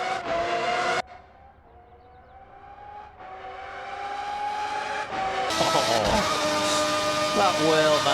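A 1990 Formula 1 car with a V12 engine in the Assetto Corsa racing game, wailing at high revs. The pitch climbs through the gears, cut by a sudden lift near the start, then builds again to a loud, sustained scream with quick downshifts at the end.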